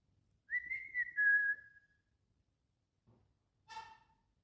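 A person whistles a short melodic phrase alone, one sustained gliding note followed after a pause by a brief second whistle, close and fairly quiet in an otherwise silent room.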